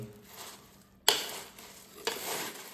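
Puffed rice being tossed together with grated carrot, chilli powder, salt and coriander, heard as a soft dry rustle punctuated by two crisp scraping stirs close to the mic.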